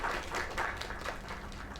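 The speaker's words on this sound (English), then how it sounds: "there's the clapping" Clapping from a crowd, a steady wash of many hands applauding together, moderately loud with no voices over it.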